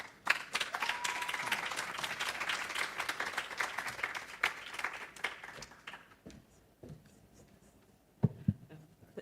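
A symposium audience breaks into applause, dense clapping that holds steady for several seconds before thinning out to a few scattered claps, heard alone without talk.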